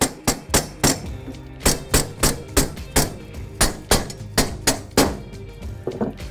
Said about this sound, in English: we're just going to hammer each of these straps down into position.